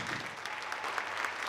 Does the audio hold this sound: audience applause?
yes